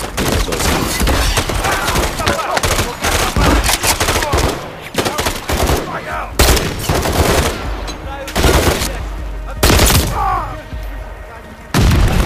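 Heavy gunfire in Call of Duty: Modern Warfare III campaign play, dense machine-gun bursts and loud blasts crowding nearly every second, with radio chatter and voices mixed underneath.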